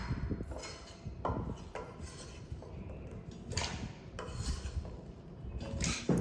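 A knife cutting potatoes on a cutting board, heard as a run of close, distinct chops and scrapes in uneven rhythm, about a dozen knocks over a few seconds, with no talk.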